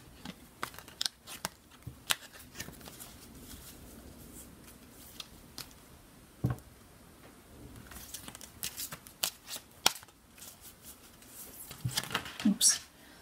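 Deck of oracle cards being shuffled, soft riffling and brief slaps as cards tumble and fall, faint and close, with bursts near the end and a voice speaking.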